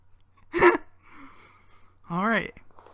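A human voice imitates twenty dollars' worth of quarters tumbling in a washing machine. Two separate close vocal bursts, clattering and warbling, are separated by a quieter murmur.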